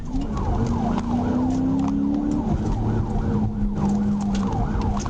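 An Arkansas state trooper's police car siren wails with rising and falling sweeps over steady road rumble during a pursuit, loud and close throughout, with no talking.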